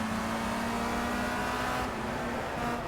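Race car engine from Project CARS at a race start, a steady loud droning roar holding a sustained tone with no other sounds.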